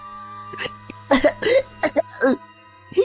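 A person coughs several times in ragged bursts, close by, the coughs broken up by strained breaths.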